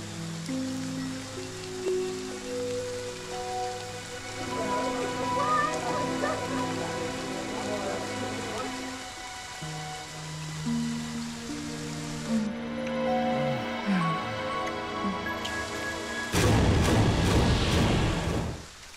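Steady rain patters across the night setting of the horror video game Friday the 13th, a constant wash beneath droning music and game sounds, with a person talking over it.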